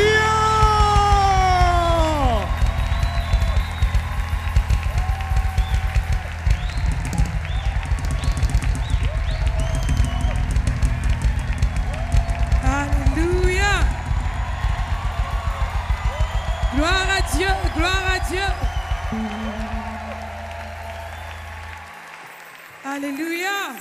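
A church worship concert audience welcoming a group with steady loud applause and cheering that carries on for most of the clip, with voices calling out over the crowd.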